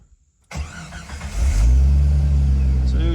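A 1991 Jeep Wrangler Islander cranks briefly and its engine catches, then settles into a loud, close, steady idle rumble with no talking.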